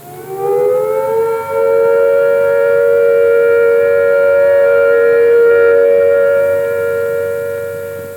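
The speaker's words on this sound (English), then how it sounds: "When the all clear sounds, like this" A loud civil defence all-clear siren sounds one long steady wail, rising briefly at the start and holding a constant pitch before fading slightly.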